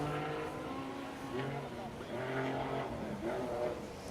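Porsche rally car driving flat out on a forest stage of the RAC Rally, its engine note rising and falling steadily throughout, with a commentator talking over it.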